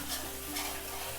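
Kashmiri red chili powder hits hot oil over a cooked paste while a dal makhani is made cloud-kitchen style, giving a soft, close sizzle with light stirring scrapes.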